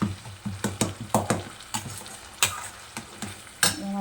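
Onion, tomato and curry leaves are stirred in a pan while sautéing for snail gravy, with repeated sharp spoon knocks and scrapes against the pan over a soft sizzle, close and clear, with no talking.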